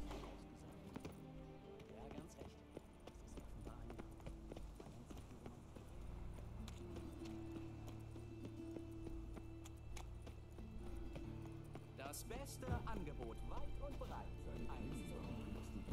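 Horse hooves clip-clop in The Witcher 3: Wild Hunt, a steady trotting beat under game music and ambience while someone talks over it.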